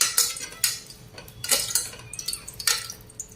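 Shallots sautéing in a pan on a low flame for sambar, a faint sizzle beneath several sharp spoon scrapes and clinks against metal, close, in irregular bursts.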